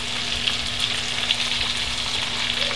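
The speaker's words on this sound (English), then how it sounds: "We're going to cook these thin little pieces of chicken fast." Thin chicken pieces fry in a hot pan with a steady, loud, close sizzle that holds evenly throughout, with a faint hum underneath and no talking.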